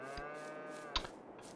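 A single cow lows on a farm where sugarcane is being planted: one long, sustained harmonic moo, fairly close, with a soft breathy tail and a quiet outdoor background.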